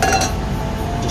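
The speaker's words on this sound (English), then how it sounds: "Just give it a whisk." Whisking barbecue paste with stock, quick metallic clinks and scrapes of a whisk against a bowl, close and fairly loud, repeating in a busy rhythm.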